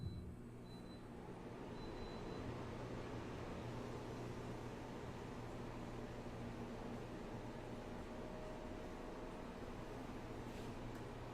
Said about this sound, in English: now that I've started up the white noise machine and the Alex comfort machine